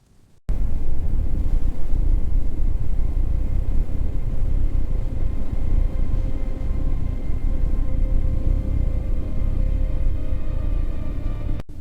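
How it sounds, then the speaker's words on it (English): Strong blizzard wind in a −71°C Siberian storm around Yakut nomads' shelter, a continuous loud low rumbling roar that holds steady after a brief quiet start. "The storm is strong."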